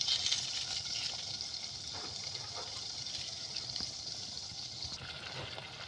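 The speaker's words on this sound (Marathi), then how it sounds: "आता आपण हे मसाल्याचं पाणी टाकून घेऊया" Masala water poured into chickpeas in a pot makes a steady, continuous gushing splash that runs evenly from start to finish at close range.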